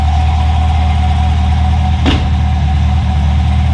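A BMW E24 fitted with a 455hp V8 idles loud and close with a steady low rumble, plus one short sharp knock partway through.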